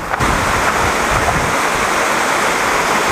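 A stream runs at Ein Gedi near the Dead Sea, its water rushing as a loud, continuous broadband wash that stays close and steady throughout, with no voices over it.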